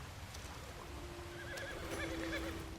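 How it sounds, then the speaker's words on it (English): In Red Dead Redemption 2, played online on Xbox One, a horse gives a close, clear whinny over a low game ambience, with soft hoof clip-clops nearby. "Sometimes you have to calm your horse, and then brush it."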